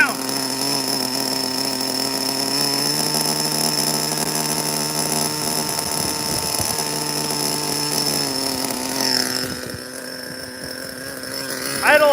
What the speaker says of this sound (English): Idle has settled down.